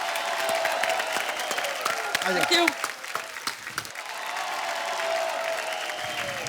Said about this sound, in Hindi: जोरदार तालियां हमारी क्रिकेट टीम के लिए